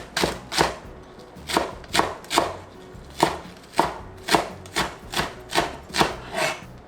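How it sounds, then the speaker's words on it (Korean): Knife mincing chili peppers, whole garlic cloves and the white part of green onion on a cutting board, a steady run of about a dozen crisp, close chops in even rhythm with no talking. "가리고추 100g, 통마늘 100g, 파 흰대 반대, 이렇게 해서 송송 다지 줍니다."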